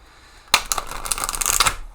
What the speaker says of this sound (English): Let's give it another proper shuffle